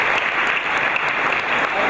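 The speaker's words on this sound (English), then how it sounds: "Let's give them a round of applause." Audience applause at a Canadian arts awards show, steady and dense clapping from a large crowd held at constant loudness for the whole stretch, with no voices over it.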